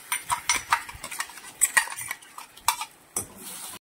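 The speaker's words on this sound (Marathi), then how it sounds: "तर आपल्याला 3 ते 4 मिनिटं हे सारण परतून घ्यायचं आहे।" Ground bottle gourd paste filling being sautéed and stirred in a pan, with repeated scraping and clinking of a spoon against the pan over a soft sizzle, close and fairly steady, no talking.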